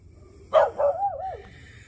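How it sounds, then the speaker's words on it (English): A single dog bark followed by a short, wavering whine, fairly close and alone against a quiet background. "you're on my property and you barking at me"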